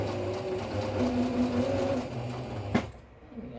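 A sewing machine runs steadily, stitching 1/4-inch seams on a small Christmas-themed mini quilt of embroidered stitchery panels, with a continuous mechanical whir, then a sharp clack before it stops near the end.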